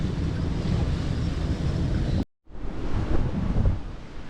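Strong wind roars steadily across the microphone while sailing at sea in 30-knot gusts, with waves and hull rush beneath, broken by a brief near-silent dropout midway before the loud buffeting resumes.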